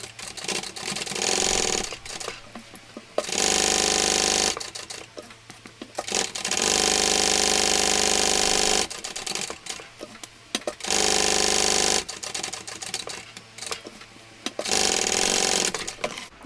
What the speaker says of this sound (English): I'm going to sew around here using the seam allowance given in the pattern